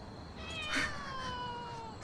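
A cat meows indoors in a house, a single faint drawn-out whining cry that rises and falls over about a second against low background noise.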